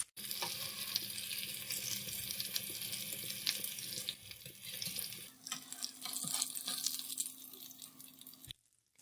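Burger patty frying in hot oil, a steady close hiss and crackle of sizzling with brief clinks of handling, fading out at the end with no voices.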